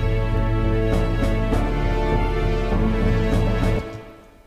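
A loud sustained note from a GarageBand soundtrack holds steady and full for nearly four seconds, then fades away quickly.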